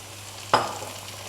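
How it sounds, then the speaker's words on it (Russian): A single short scraping stir of tomato paste in a pan at about half a second, brief and close, against a quiet background hum. "И перемешаем вместе с томатной пастой."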